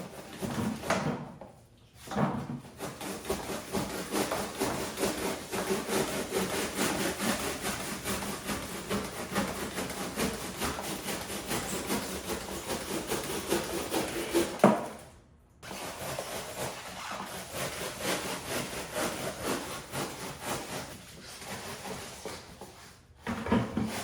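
A handsaw hacks at wood in long, continuous rasping back-and-forth strokes, close and fairly loud, with two short pauses before the sawing resumes.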